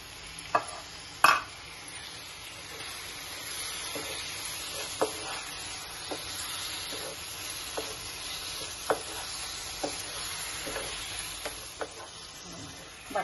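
Paneer and butter being stirred in a frying pan, a steady soft sizzle under intermittent scraping clinks of a spoon against the pan, close and moderately quiet, with no talk.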